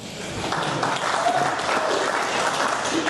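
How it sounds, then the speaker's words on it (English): An audience at a Rally Tasmania 2024 gathering applauds, a dense, even wash of clapping that stays loud and steady from start to finish. "Ladies and gentlemen, a round of applause for Steve Maguire"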